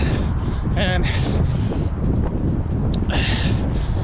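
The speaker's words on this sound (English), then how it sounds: "it's a bit windy" Steady wind buffets the microphone with a constant low rumble during a marathon training run, and a voice speaks intermittently over it.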